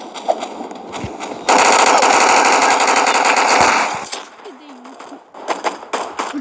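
An Owen gun firing in a shooting video game: a loud, dense burst of rapid automatic fire lasting a couple of seconds, framed by quieter single shots and game effects, with someone talking.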